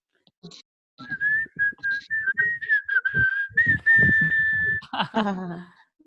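A person whistles a short tune up close, thin steady notes in a bouncy rhythm, with some breathy sounds and a voice near the end.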